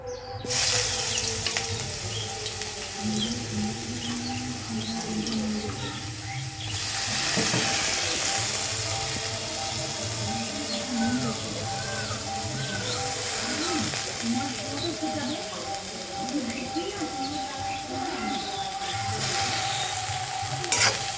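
Cauliflower pieces sizzle and fry in a hot pan over high heat with cumin, a steady crackling hiss broken by scraping stirs, while a person talks over the cooking throughout.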